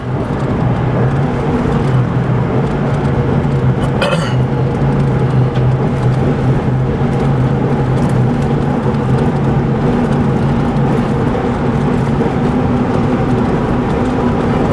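Engine note of a 2001 Dodge Dakota with a 4.7L V8 and a broken camshaft sensor wire, recorded from inside while driving: a loud, continuous low drone with road noise and a brief surge midway, no talk.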